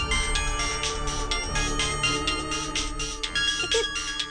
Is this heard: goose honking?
no